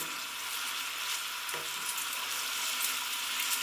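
Onions fry in olive oil in a pan, giving a steady, close sizzle with a faint stir or clink partway through.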